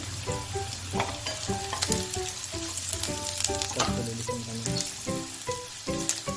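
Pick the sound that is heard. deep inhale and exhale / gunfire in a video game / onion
onion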